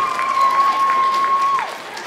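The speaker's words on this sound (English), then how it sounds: "let's give Aaron a nice round of applause" An audience at a school Winter Fun Day gives a child a round of applause, the scattered claps soft and distant beneath a loud, steady whistling tone that cuts off near the end.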